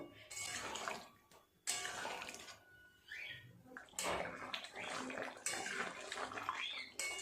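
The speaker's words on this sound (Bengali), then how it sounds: "জল দিয়ে দেবো কিছুক্ষণ সময় ফুটিয়ে নিলেই রেডি হয়ে যাবে একদম" Water poured into a pan of small-potato curry (aloo dum), loud, close gushing that comes in several pours separated by short pauses, with faint clinks of the pan.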